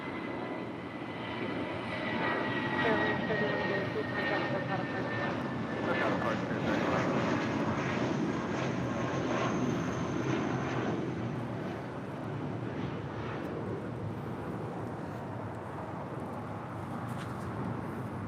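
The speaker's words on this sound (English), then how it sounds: "That was Spirit Airlines heading to Atlanta, Georgia. Spirit Airlines Flight 3103 and then A319." Spirit Airlines Airbus A319 jet taking off from runway 25 at LAX, a steady loud broadband engine roar holding for the whole span with slight swells, with speech in the background.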